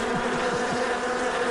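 A large bee swarm pours out of a beehive during a Dodgers–Diamondbacks baseball game, making a dense, steady buzzing that holds without a break and with no voices over it.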